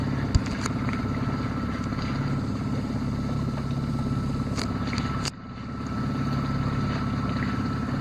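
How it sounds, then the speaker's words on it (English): A sailboat motors along with its sails down, its engine giving a steady, low droning hum over wind and water noise, with a brief dip partway through. "I think we'll drop the sails and motor for a while"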